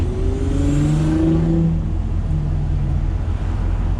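A car accelerates hard from first into second gear on a road trip, its engine droning loud and steady with rising whine through the shift, heard close from inside the cabin.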